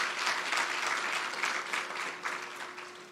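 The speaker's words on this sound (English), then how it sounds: "let's give him another round of applause" A live audience gives a short, even round of clapping for Jamaica's Minister of Tourism, dense and sustained before tapering slightly at the end.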